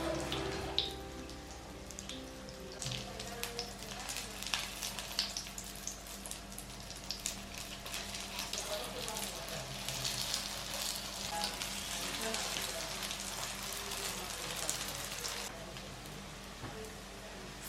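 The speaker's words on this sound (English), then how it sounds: "Fry it for about 3 minutes from each side until it's golden brown" Tofu pancakes dipped in egg and vegetables fry in oil in a non-stick pan, a soft continuous crackling sizzle with scattered pops, fairly faint and steady throughout.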